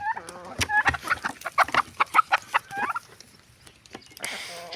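Chickens cluck close by in a run of sharp, rhythmic clucks and squawks, with a few brief sounds after them.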